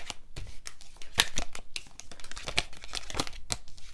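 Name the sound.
tarot cards being handled and put back in deck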